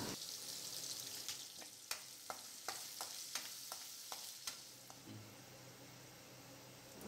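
Chopped garlic and peanuts fry in a pan for a grain porridge, a soft continuous sizzle broken by about a dozen regular clicks of a utensil stirring against the pan, quiet and close.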